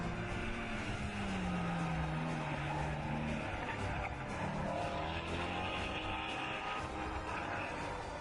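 A Mustang Shelby GT350R is driven hard, its engine note rising and falling in loud sweeps with road and tyre noise, close and continuous.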